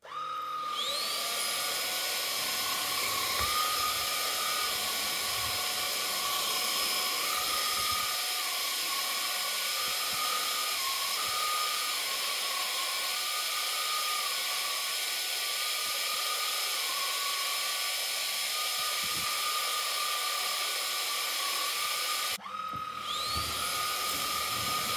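A MOOSOO K17-Pro cordless handheld vacuum cleaner whirs steadily with a high-pitched motor whine, running close and loud, briefly cutting off and restarting near the end.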